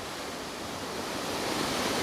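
Hull Creek Falls, a waterfall in Pennsylvania, heard as a steady broadband rush of falling water, constant and fairly loud with no talk.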